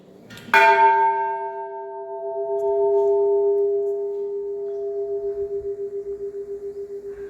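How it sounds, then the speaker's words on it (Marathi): A large 320 kg eight-metal temple bell is struck once with a loud clang, then its deep tone hums and rings on, slowly pulsing as it fades over several seconds. "ही तीनशे वीस किलो वजनाची घंटा आहे अष्टधातूची आवाज पण इतका मोठा आहे"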